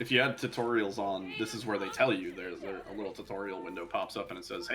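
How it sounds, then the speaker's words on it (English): A pet cat meows in the background while a person talks steadily over Silent Hill f gameplay; the cries stay faint and partly buried under the voice. "So sorry for the cat in the background."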